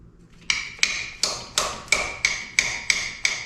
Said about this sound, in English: give it a couple of decent taps in there